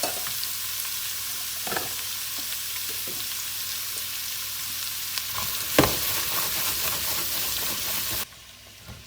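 Onion and peppers frying in a pot for an El Paso green chile stew, a steady close sizzle with occasional stirring scrapes and clinks, one louder knock near the end before the sizzle drops away.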